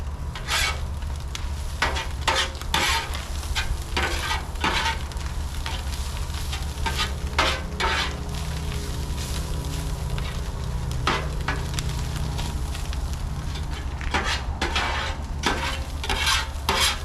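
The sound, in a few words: sauerkraut, onions and jalapenos frying and being stirred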